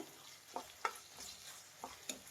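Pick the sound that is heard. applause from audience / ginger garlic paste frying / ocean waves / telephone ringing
ginger garlic paste frying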